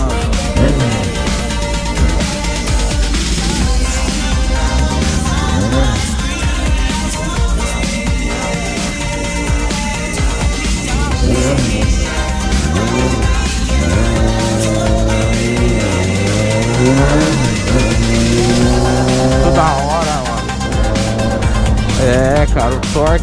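A carbureted Honda Hornet 600 motorcycle rides through Poços de Caldas, its engine droning loud and continuously under wind buffeting, with the pitch repeatedly climbing and dropping through gear changes.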